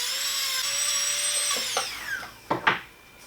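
A high-pitched rotary dental-style grinder trims a custom sports mouthguard along the palate, whining steadily and close, then dropping in pitch as it slows near the end with a few scraping contacts.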